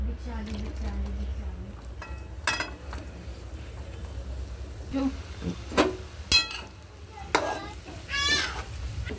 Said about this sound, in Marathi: तुपामध्ये छान असे आपण भाजून घेऊयात. छान प्रकारे परतून घ्यायचं आपल्याला.